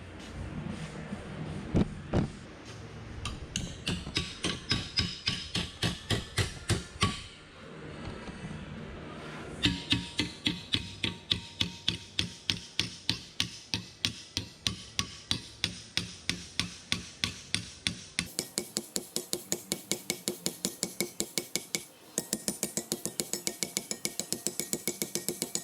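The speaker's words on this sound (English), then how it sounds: "now we're just gonna put it in the vise and give it a bend" Hammer striking a metal drip rail clamped in a vise to bend it during repair on a 1967 Mercury Cougar, a long series of sharp, ringing metallic blows in a steady rhythm, loud and close, with brief pauses.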